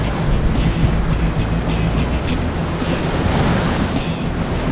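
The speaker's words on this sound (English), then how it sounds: "Watch out for the set waves here. Some set waves is coming through." Ocean set waves breaking steadily on a tropical Central American shore, a loud continuous roar of surf with wind buffeting the microphone throughout, no voices.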